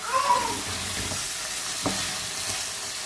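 A chicken and potato curry mixture fries in a pan with a steady close sizzle, broken by a few clanks and scrapes of stirring and a brief low hum at the start.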